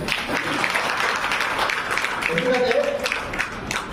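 An audience at a marketing company gathering breaks into steady applause, a dense, even wash of many hands clapping that continues throughout, with a voice speaking over it partway through.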